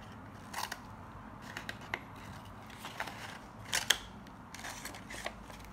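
A young child's scissors snipping through paper at close range, with scattered soft clicks and crisp cuts spaced irregularly, one louder snap near the middle, over a quiet room.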